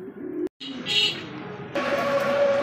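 Domestic pigeons kept for breeding at a pigeon market give low, soft cooing notes in two short bursts, broken by a brief silence, over a light background hum.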